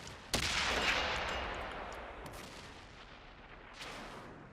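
Tank cannon fire in World of Tanks on Xbox One: a sharp blast opens, rolls into a long fading rumble, then a second fainter report follows near the end.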